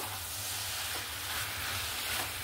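Potato and boiled banana flower go into a pan of hot oil and spices, making a steady, dense sizzle with a faint low hum beneath, close and continuous throughout.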